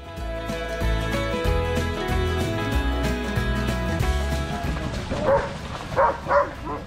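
Sled dogs at the Iditarod headquarters in Wasilla, Alaska, barking in short yips toward the end over steady background music, the barks close and fairly loud.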